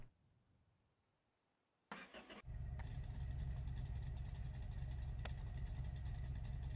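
A car engine in the video game My Garage cranks briefly and then catches, settling into a steady, rough-sounding idle that runs loud and continuously to the end with no talking.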